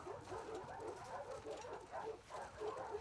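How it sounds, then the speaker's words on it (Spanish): Dogs in The Last of Us Part 2 bark and whimper in a faint, muffled run of yips and whines, rising and falling in short bursts across the moment. "Ah, todos los perritos."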